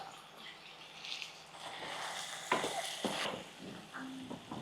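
Potatoes, about 300 grams, tossed into a pan of softened onions and green chillies, a faint, steady sizzle with soft stirring and a few clattering knocks, no talk.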